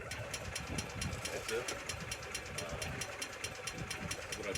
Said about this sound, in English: I'm just going to touch the gas, and you'll be able to hear it start.